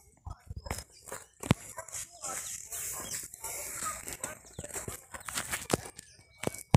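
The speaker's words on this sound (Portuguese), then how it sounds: "Aqui é as galinhas comendo aqui" Chickens pecking and eating cassava on a small farm, with scattered sharp taps and scratchy rustles, faint clucking in the background and a person speaking at times.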